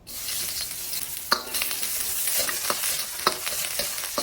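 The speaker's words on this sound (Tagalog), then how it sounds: "igisa na po natin ang ating bawang" Garlic sautéing in hot cooking oil: a dense, continuous close sizzle with scattered sharp crackles and pops, no voices.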